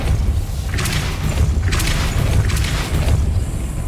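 The Depulso spell effect in the video game Hogwarts Legacy lands as repeated thumping bursts with whooshy, crackling tails, about three impacts over a constant low rumble of game ambience.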